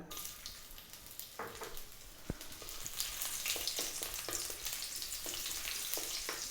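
Ginger sizzling and crackling in hot cooking oil, a steady close hiss that swells and stays strong, with a few faint clicks and knocks.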